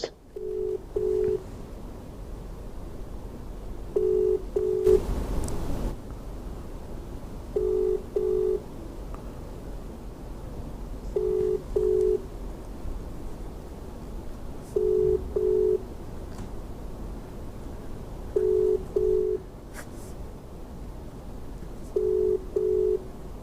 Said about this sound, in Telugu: నిన్న కూడా నేను గట్టు శంకర్ గారితో నేను ఫోన్ కలిపానండి.